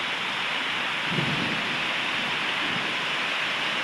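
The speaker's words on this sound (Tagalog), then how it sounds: "Malakas po ulan." Heavy rain pours in a dense, constant hiss while a low roll of thunder rumbles briefly in the middle.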